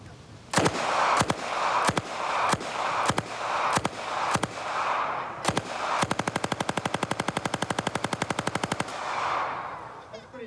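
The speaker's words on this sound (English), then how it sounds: "here's a full drum, 50 shots, the largest you can get for a Thompson submachine gun" A Thompson submachine gun fires from a 50-round drum outdoors: first a string of separated single shots with echoing tails, then a rapid sustained automatic burst of about three seconds, loud and close, followed by a fading echo.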